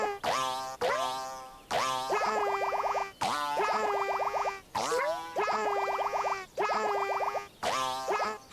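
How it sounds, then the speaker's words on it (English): Yoshi's colored creature croaking in a Yoshi video game each time it is bopped from above, a series of bright, springy pitched croaks in a repeating rhythm, close and loud with no talk. "The creature croaks on a note when you bop atop it."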